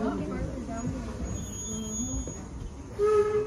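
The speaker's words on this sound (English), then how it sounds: "And there's the whistle." A steady high whistle tone sounds over a rumble of background chatter, then a louder, brighter whistle blast from the Torch Lake 0-6-4T steam locomotive enters near the end.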